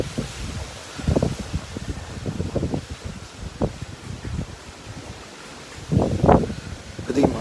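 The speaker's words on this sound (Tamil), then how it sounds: "மரமே விழுந்துரும் போல இருக்கு." Strong cyclone wind gusts through trees in Chennai, surging in loud, irregular bursts of rushing and rustling over a steady windy roar, with the strongest gusts near the end.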